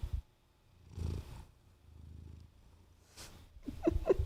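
A pet cat purrs softly in short bursts while eating treats, quiet and close, with gaps of near silence between purrs.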